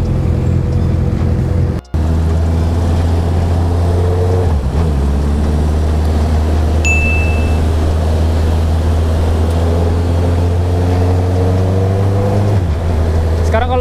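A Yamaha R6 motorcycle with a loud aftermarket exhaust rumbles steadily nearby with a deep droning exhaust, rising briefly as if revving, with a short siren-like tone partway through.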